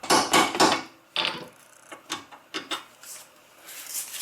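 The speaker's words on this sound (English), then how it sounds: "And just tap on it with a hammer." Hammer tapping a bolt out of the front strut assembly of a 2006 Audi A4 or S4, producing a run of sharp metallic knocks in quick clusters, then sparser, lighter taps with short pauses between them.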